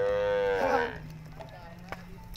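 Cattle in Kenya's Borana territory, driven a long way to water, let out a loud, close moo lasting about a second before quieter background sounds.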